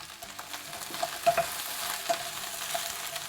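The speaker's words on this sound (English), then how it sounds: "I'm just going to kind of stir fry this on high heat for 5 minutes." About 800 grams of chopped okra stir-fries on high heat in a pan, giving a steady crackling sizzle broken by scattered pops and spatula clicks, close and fairly loud, with no voices.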